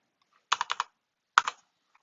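Computer keyboard keys clatter in two short bursts, a quick run of four crisp taps followed by a pause and then two or three more, close and clear against an otherwise quiet room.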